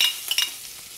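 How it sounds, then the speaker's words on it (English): Chestnuts and mushrooms hit a hot pan in a brief close burst of sizzle with a couple of quick utensil scrapes, fading to a soft hiss within a second. "We're now going to add our chestnuts."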